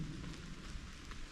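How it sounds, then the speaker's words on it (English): Rain falls through heavy tree cover during a storm on a woodland hike, a steady hiss over a low, rumbling wind-like background. "still raining, but I'm under tree cover here, and quite heavy tree cover"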